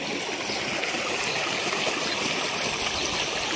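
Well water pumped by a motor gushes steadily into a vegetable field, a continuous broadband rushing and trickling flow, close and constant throughout with no talk.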